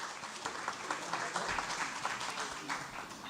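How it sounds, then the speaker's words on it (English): Audience applause for Dr. Corinne Langsfield at the UKZN 2022 Internationalisation Summit, a steady clatter of many hands clapping at moderate volume for a few seconds without speech. "let us just give her a round of applause as she starts"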